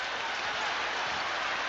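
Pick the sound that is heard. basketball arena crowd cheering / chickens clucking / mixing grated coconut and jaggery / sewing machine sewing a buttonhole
basketball arena crowd cheering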